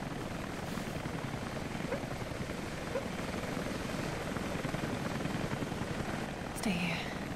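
A helicopter's rotor chop and engine whine in the video game Rise of the Tomb Raider drone steadily throughout, with faint voices briefly heard near the end.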